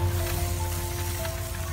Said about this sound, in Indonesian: hujan pula guys, mendungnya deh